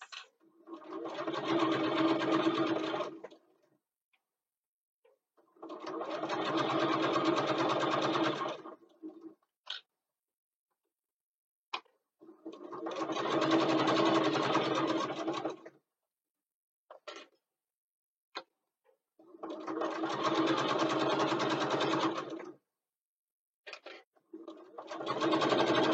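Sewing machine stitching fabric pieces with a 1/8 seam allowance, chain-feeding one piece after another in four long, steady runs of rapid whirring separated by near silence and a few small clicks.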